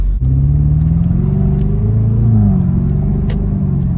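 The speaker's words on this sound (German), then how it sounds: "Die Auspuffklappe machen wir auch mal auf, dass ihr auch den Ton hört." A Jaguar F-Type P300 sports car engine idles with a deep, loud exhaust burble with the exhaust flap open, rising into a revving growl midway before settling back down.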